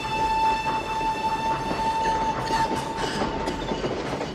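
A train from the film Schindler's List rumbles along steadily, with a sustained high whistle or wheel-squeal tone over the continuous rolling clatter of the cars, loud and close throughout.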